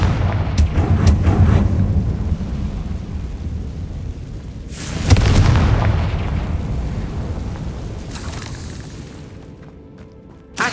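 A Confringo spell detonates in a video game, a deep rumbling explosion that carries on at first, swells into a fresh loud blast near five seconds, then decays slowly, close and heavy.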